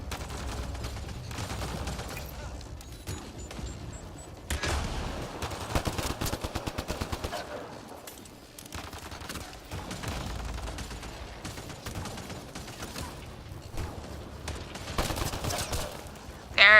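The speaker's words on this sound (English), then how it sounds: "Just keep firing, we can do this!" Rapid bursts of gunfire in the Mass Effect Andromeda video game, dense repeated automatic shots and impacts layered over a continuous battle din, loud and sustained with short pauses.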